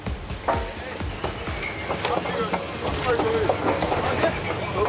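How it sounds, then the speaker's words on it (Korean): Steady mechanical clatter and rumble of net-casting machinery on the deck of a gillnet fishing boat at sea, continuous and fairly loud, with faint indistinct voices underneath. "이 순간 갑판 위에서 들리는 건 투망을 위한 기계 소음뿐입니다"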